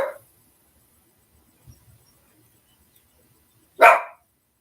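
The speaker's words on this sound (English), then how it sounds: "He's just barking at the birds that he hears or something." A pet dog barks indoors, one sharp bark at the start and another a few seconds later, each loud and close, with near silence and faint rustling between them.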